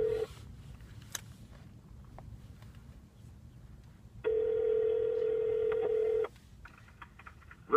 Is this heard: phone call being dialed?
yes